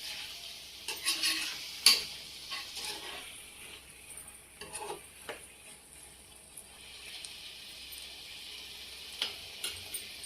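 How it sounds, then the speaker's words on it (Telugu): Gongura chicken bubbles and simmers in a pot, a steady close hiss broken by scattered soft ticks and pops, with no voices. "చికెన్ బాగా ఉడికింది, బాగా ఉడుకుతూ ఉంది"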